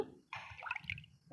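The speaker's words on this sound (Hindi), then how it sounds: "पतला पतला घोल करके पानी ज़्यादा डाल के इस तरह से हमें पिला देना चाहिए सब पौधों को।" Diluted compost liquid poured from a container onto potted plants, a soft splashing trickle that starts after a brief pause and runs steadily to the end, faint and close, with no talking.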